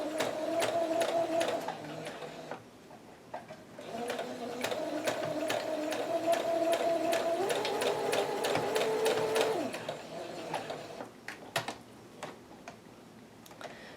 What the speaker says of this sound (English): I'm going to just sew this side of the heart.